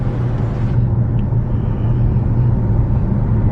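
Steady engine rumble from inside a 2019 Kia Stinger as it accelerates, a continuous loud low drone with road noise and no talking.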